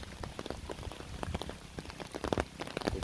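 Heavy rain pours steadily onto a bypass road and nearby surfaces, a dense, continuous patter of close drops without a break.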